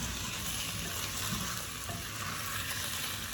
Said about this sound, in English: I'm just going to get the beef in here. And once it's cooked down or browned really well